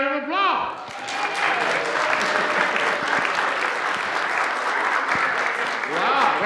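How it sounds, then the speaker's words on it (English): A church congregation at a Sunday morning worship service breaks into steady, full applause after a brief spoken line, the clapping holding evenly throughout before a voice returns at the end. "Give her a big round of applause"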